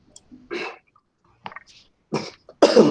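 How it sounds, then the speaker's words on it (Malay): One person gives four or so short, close coughs with brief silences between them, the last the loudest. "Saya tiba-tiba terbatuk"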